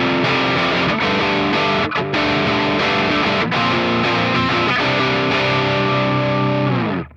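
Electric guitar played through the rumble drive distortion on a Mooer GE150 Pro multi-effects unit into an RX Green 90 impulse response, a loud sustained distorted chord ringing out and fading at the end, with no voices.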